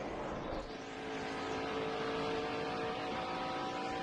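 Race car engines on the long front straightaway at Pocono Raceway, a sustained high-pitched engine whine with steady tonal harmonics, heard at a moderate distance and fairly quiet, with no talk.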